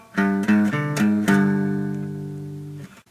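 Electric guitar in drop C playing the main riff of a song, a few quick picked notes followed by a long ringing sustained chord, close and loud with no talking.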